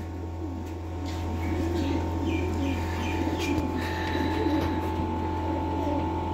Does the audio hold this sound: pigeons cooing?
yes